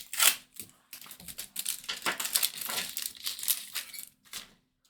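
Stiff card book nook decor pieces are cut and snipped from a sheet, giving a run of close crisp crinkling, crunching and tearing sounds with short pauses between them.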